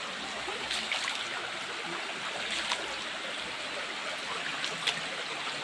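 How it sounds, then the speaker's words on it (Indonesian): A clear underground river of spring water, flowing out from rocks, rushes in a constant close hiss of moving water, steady throughout with no talk. "Ini sungai bawah tanah"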